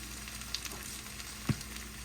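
Grated hash browns fry in a pan, a steady soft sizzle with a couple of faint pops and one brief louder knock near the end, no voices.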